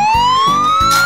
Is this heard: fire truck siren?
yes